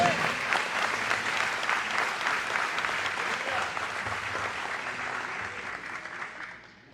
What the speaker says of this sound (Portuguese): Essas palmas podem adorar o Senhor nessa noite.